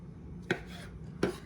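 Two sharp knife chops on a cutting board, roughly chopping mushrooms, spaced about a second apart, close and crisp over a low background hum.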